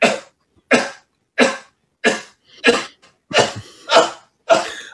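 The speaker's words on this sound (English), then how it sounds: "it's disturbing during these times to see an old man coughing without a mask" An old man coughs in a series of about eight harsh, loud bursts, close by, with short pauses between them and no talking.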